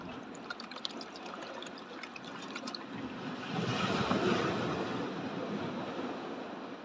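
Stream water flowing through a gold panning sieve, a continuous rushing, splashing wash that swells louder around the middle and stays steady, close by with no talking.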